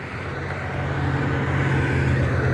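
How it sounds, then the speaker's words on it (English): Steady, loud roar of traffic on a busy highway, a continuous low rumble of cars and trucks that swells slightly as vehicles pass nearby, with no voices. "Sorry for the noise, guys. I'm next to a busy highway."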